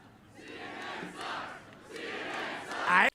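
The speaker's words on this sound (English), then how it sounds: "his crowd responds by chanting, CNN sucks" A political rally crowd chants "CNN sucks" in loud rhythmic bursts, heard as two or three surging group shouts that swell toward the end and then cut off.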